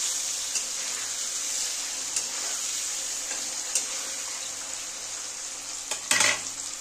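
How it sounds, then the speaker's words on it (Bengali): Small cut pieces of paneer fry in oil for Bengali-style paneer posto, giving a steady, close sizzle with a few light clicks and a brief clatter of stirring near the end. "দেখো পনিরটা ভাজা হয়ে গেছে, এবার আমি তুলে নেব"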